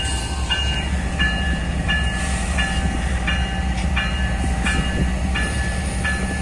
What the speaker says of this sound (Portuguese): Ó o trem, o maquinista gente boa buzinando pra mim.